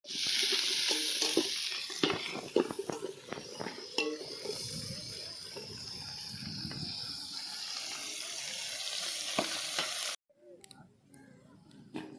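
Chilies frying in a pan at an outdoor village cooking spot, a steady hiss of sizzling oil with clinks of stirring, then a sudden drop to near quiet with faint sounds near the end.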